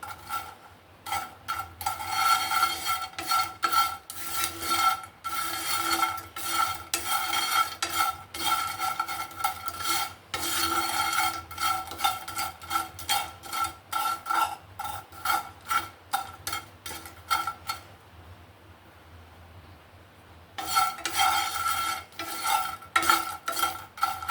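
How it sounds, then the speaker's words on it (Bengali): Dried chela fish frying in a pan until crisp, with rapid, continuous scraping and stirring of a utensil against the pan over a steady sizzle, pausing briefly near the end before the stirring resumes. "এটা হলো চেলা শুটকি এটা আমি একটু মুচমুচো করে ভেজে নিব"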